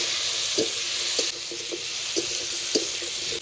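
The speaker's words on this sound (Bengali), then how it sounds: "এবার ওই তেলে পটলগুলো ভেজে নেব অল্প একটু লবণ অল্প একটু হলুদ গুঁড়ো" Pointed gourd (potol) fries in oil with salt and turmeric, giving a constant sizzle punctuated by regular soft clatters of stirring, close and moderately loud.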